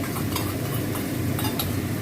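Curry with yogurt stirred in a pan, a dense steady rustle of scraping and soft sizzling with a few light metallic clinks, close and continuous, no speech.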